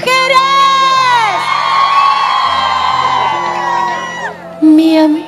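Women in a crowd at a live orchestra concert in San Juan de Lurigancho let out a loud, sustained collective scream and cheer lasting several seconds, rising and falling with whoops before a fresh burst near the end.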